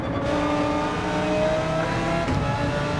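A GT3 race car engine in Gran Turismo 7 revs high and strains near the top of a gear, a loud, sustained buzzing drone that climbs slightly in pitch and then briefly dips.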